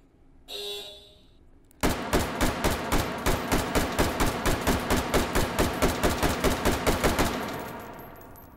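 HK416 rifle fired in the H3VR virtual reality game: after a brief mechanical handling noise, a loud, close string of about twenty rapid sharp shots in steady rhythm, ending in a fading echo.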